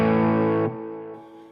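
An electric guitar played through a Fender Tone Master Pro set to a Deluxe Reverb preset rings out as one loud sustained chord that drops in level and fades away, with no playing after it.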